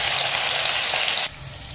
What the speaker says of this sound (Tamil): இந்த மாதிரி ஃபர்ஸ்ட் எண்ணெயில பொரிச்சு எடுத்துட்டு வாழைக்காயை தாளிக்கலாம்.